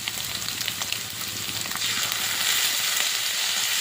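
Street-style chow mein sizzling and frying hard in a hot pan as soy sauce goes in, a loud continuous crackle that swells in the second half, no voices.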